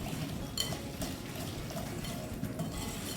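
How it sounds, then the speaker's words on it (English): Melted butter and sugar are whisked in a bowl, a steady soft scraping and clinking of the whisk against the sides, close and quiet. "And we're just gonna whisk this,"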